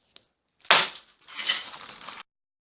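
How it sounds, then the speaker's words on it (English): A glass shattering sound effect: one sharp crash is followed by a brief gap, then a longer scatter of tinkling, falling fragments that cuts off abruptly, with no background noise. "Suddenly the sound of shattering glass."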